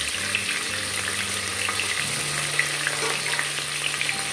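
Onion, green chilli and curry leaves frying together in hot oil for a dal rice bath, giving a steady close sizzle with faint stirring scrapes and no talk.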